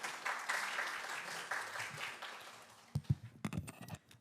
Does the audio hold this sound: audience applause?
yes